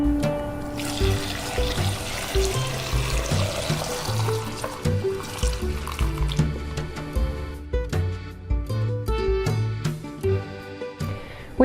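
Apple cider vinegar pours steadily into a jar being filled almost to the top, a continuous close trickle and gurgle with small drips, rising in pitch slightly as the vessel fills, no speech.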